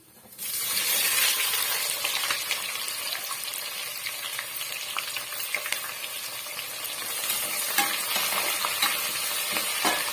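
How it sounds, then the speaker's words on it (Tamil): Sliced onions, fennel seeds and green chilies sizzle and fry in a pan for kuska rice, with a steady loud crackle and occasional stirring scrapes throughout, no talking. "இடையிடையே இந்த மாதிரி வந்து கிளறி கொடுத்துக்குங்க"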